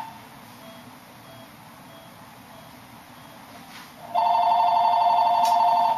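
A telephone rings loudly with a steady electronic tone that starts about two-thirds of the way in, after a quiet room hush. No one speaks.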